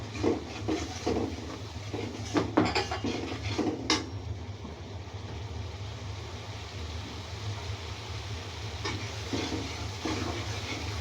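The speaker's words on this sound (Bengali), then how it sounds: "আর একটু দেবো তেল ভালো করে কষাবো" Turmeric and chili powder sautéing in oil in a pan for a rohu fish curry with cauliflower and pointed gourd, a soft continuous sizzle with a few stirring scrapes and a sharp utensil clink early on.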